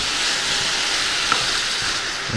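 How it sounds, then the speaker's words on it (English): Onions frying in a hot pan with coriander, a steady dense sizzle that stays loud and even throughout, with no talking. "We'll just throw some onions in there as well."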